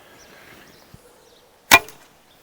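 A laminated Turkish bow looses an arrow with one sharp, loud snap and a brief twang that dies away quickly after a moment of near silence.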